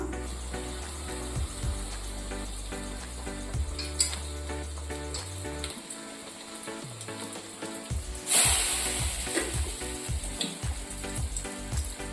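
KFC-style chicken pieces, coated in oats, are lowered into hot oil and sizzle and crackle steadily throughout, with a brighter burst of frying noise partway through as a new piece hits the oil.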